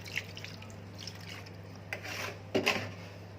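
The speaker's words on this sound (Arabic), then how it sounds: "ننزل بالشوربه،" Broth poured into a milk-based chicken marinade for KFC-style fried chicken, with soft splashing and dripping over a low hum and a couple of louder splashes near the end.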